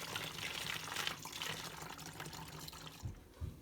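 Homemade laundry soap liquid is poured through a separate funnel into a container, giving a steady close trickling and splashing flow that runs for a few seconds before tapering off, with a couple of soft knocks at the end.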